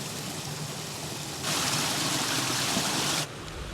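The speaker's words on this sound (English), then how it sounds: "The sound of running water." Running water trickling and rushing down a hillside stream on Walla Crag, a soft steady babble that swells louder for a couple of seconds before easing back.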